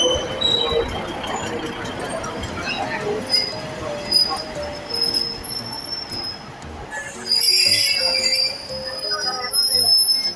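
An ordinary local passenger train, Ubon Ratchathani–Nakhon Ratchasima service, rolls by at Surin station in Thailand with metallic wheel squeal and rumbling, a high screech rising toward the end; a voice murmurs faintly beneath.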